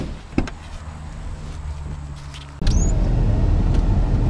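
A Silverado HD pickup truck rumbles along from inside the cab, a low steady drone that suddenly grows louder partway through, with a knock and a brief squeak.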